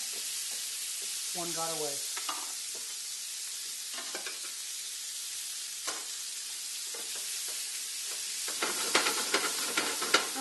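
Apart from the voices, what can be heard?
onions frying in chicken fat in a skillet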